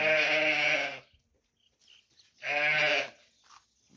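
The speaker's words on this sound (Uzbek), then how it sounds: "Qo'ylarni qarang." Two loud, harmonic sheep bleats, each about a second long, separated by a quiet pause with faint background rustling.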